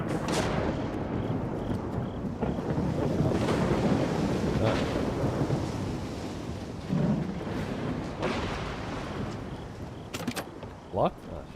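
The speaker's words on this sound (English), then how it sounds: "Quite the storm." A loud thunderstorm rumbles in the game Stalker 2 as a dense, continuous roar of heavy rain and deep thunder, with occasional sharper cracks near the end.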